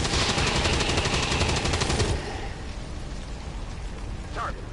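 Sustained automatic gunfire in XCOM 2, a loud rattling burst lasting about two seconds, then fading into a quieter rumbling ambience with a faint later sound.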